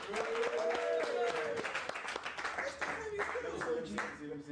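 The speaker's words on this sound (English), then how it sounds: "Round of applause, James." Classmates give a round of applause in a classroom, a few seconds of clapping mixed with overlapping voices and a sung or drawn-out vocal tone over it.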